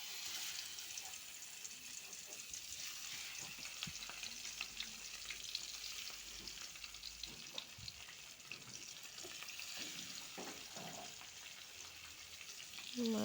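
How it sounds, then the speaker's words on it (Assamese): Fish fries in hot oil in a pan, giving a steady dense sizzle with faint crackles throughout, close and even, with occasional stirring clinks and no talk. "মাছখিনি ভাজি লওঁ,"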